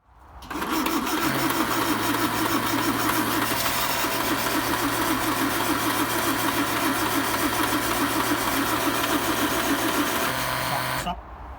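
A 1955 Land Rover Series One engine cranks on the starter without catching, a loud, steady mechanical churn that holds for about ten seconds before cutting off.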